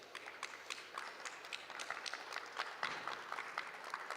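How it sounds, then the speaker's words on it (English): Quiet applause from a small workshop audience, individual claps distinct and irregular rather than a dense roar, continuing throughout at low level. "So please, a big round of applause for these people."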